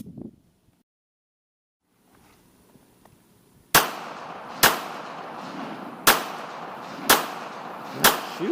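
A Kel Tec P32 pistol fires five sharp, loud shots at a steady pace about a second apart, each with a short ringing decay outdoors, after a quiet stretch with faint movement.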